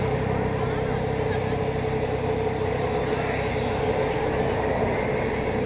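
American Airlines flight 1504 arriving from Los Angeles at DFW Airport at night, a steady, loud broadband jet roar filling the whole clip without a break, with a faint voice underneath at times.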